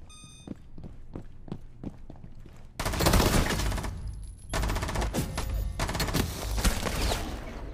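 Gunfire in the mobile shooter Rainbow Six Mobile: a few sharp single shots, then dense bursts of automatic fire in two loud stretches, with game beeps in the background.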